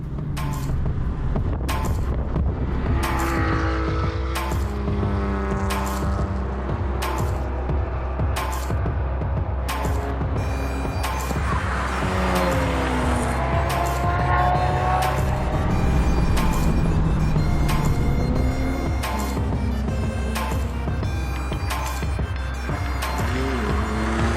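A K-swapped Honda Civic lapping a race track revs through its gears from the cabin, engine pitch climbing and dropping in repeated sweeps with sharp shift breaks, loud and continuous.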